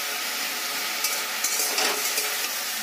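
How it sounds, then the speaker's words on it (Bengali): Leaves being fried until crisp in a kadai for a mashed leaf bhorta give a steady close sizzle, with a few scraping stirs rising through it and no voices. "পাতাগুলো দিয়ে ভালো করে একটু ভাজা ভাজা করে নিতে হবে।"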